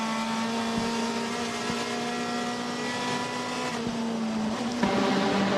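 WTCC touring race cars from the 2014 season screaming past at high revs, a steady loud engine drone with a sustained tonal whine and shifting pitch, a brief surge near the end.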